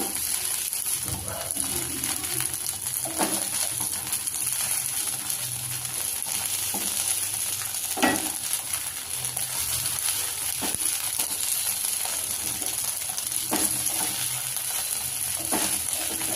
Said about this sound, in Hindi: इस तरीके से दोनों तरफ से अच्छे से हम फ्राई करेंगे।